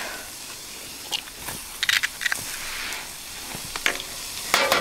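An egg fries in a pan at a campsite, giving a soft, steady sizzle with scattered crackles and light clicks.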